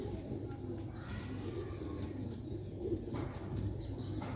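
Rooftop pigeons in Sialkot coo softly and steadily, with a faint chirp and a brief flutter of wings against a low background hum.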